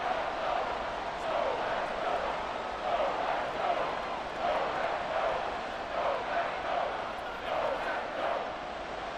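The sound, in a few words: football stadium crowd cheering before a big third down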